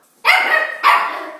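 Two loud, close puppy barks in quick succession, each a sharp burst that trails off, heard alone with no talk.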